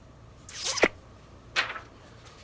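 A sheet of paper is peeled off inked metal type on a Gutenberg-style printing press, giving three short rasping, tearing bursts with pauses between them, close and clear.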